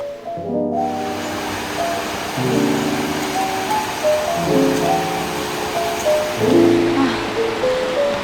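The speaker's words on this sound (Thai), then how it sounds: "ได้ยินเสียงน้ำแล้ว" Steady rushing water from a forest stream beside lodging near Chiang Mai fills the background, a broad continuous hiss like a stream or falls nearby, with tonal chiming or music-like sounds layered over it.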